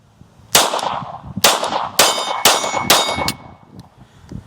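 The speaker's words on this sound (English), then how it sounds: "let's go ahead and put 5 shots downrange, give you my opinion on the comp" Five sharp pistol shots ring out from a compensated handgun at an outdoor range, evenly spaced about half a second apart, each loud and close with a bright metallic crack and short ringing decay.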